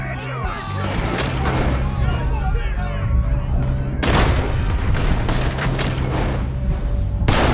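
Gunfire erupts in Red Dead Redemption II, with loud, repeated shots and booms arriving in irregular bursts over a chaotic scene as voices shout in the background.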